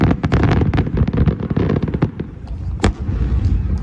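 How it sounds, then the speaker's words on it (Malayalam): Fireworks burst over the Yanbu Royal Commission waterfront at night in a dense, continuous barrage of loud cracks and booms, with one sharp standout bang near the end and no talk. "രാത്രി 11 മണിക്ക് ആരംഭിച്ച വെടിക്കെട്ട് ആകാശത്തെ വർണ്ണക്കടലാക്കി മാറ്റി"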